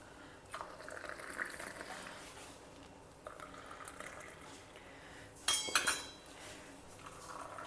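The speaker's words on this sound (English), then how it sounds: "mix it well so that the sugar dissolves" A spoon swirls and clinks softly against a glass of milk as sugar dissolves, with light liquid sloshing and a couple of sharper taps near the end.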